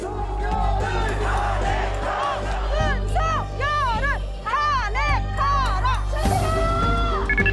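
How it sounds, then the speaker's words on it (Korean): A protest crowd chants for the president's impeachment, many voices shouting in loud rising and falling rhythmic waves over a constant low rumble, with individual voices rising above the mass. "윤 대통령의 탄핵을 요구하는 함성이 전국 곳곳에서 울려 퍼졌습니다"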